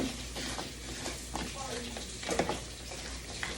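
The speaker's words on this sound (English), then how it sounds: "I'm gonna go ahead and give it a mix. I'm cooking the potatoes on a medium flame." Potatoes frying in a pan over a medium flame, a steady sizzle with occasional scraping and clinks as they are stirred, fairly close.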